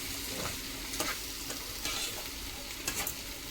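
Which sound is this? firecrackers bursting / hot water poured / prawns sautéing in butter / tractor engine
prawns sautéing in butter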